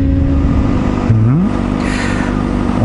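A red Yamaha FZ400 motorcycle engine revs briefly, a rising whine over a steady drone of nearby traffic, fairly loud and close.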